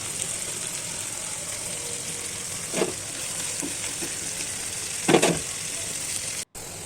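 Chopped onion, ginger-garlic paste and mustard paste frying in a pan, a steady soft sizzle with a couple of brief stirring scrapes, fairly quiet and continuous, no voices.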